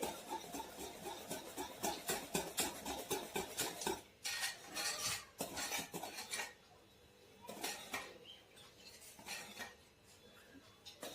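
A utensil scrapes and clicks rhythmically against a bowl as pav vada batter is whisked, quick repeated strokes that slow and pause toward the end.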